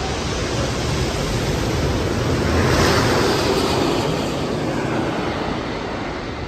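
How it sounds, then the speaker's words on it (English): A passenger plane flies over Sydenham Metro Station in Sydney, a steady broadband roar that swells to a peak near the middle and slowly fades, loud and continuous with no talking. "There's a plane flying through here probably around every 5 minutes on average."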